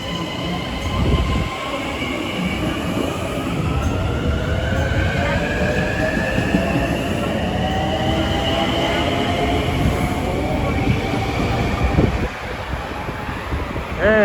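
A Long Island Rail Road M9 electric train passes through Rosedale station on a January day, rolling loud and steady close by with a sustained rumble and thin wheel squeals over the track.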